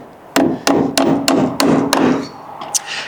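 A hammer taps a packer into place under a window frame being installed: six sharp, evenly spaced wooden knocks, close and loud, followed by a lighter tap.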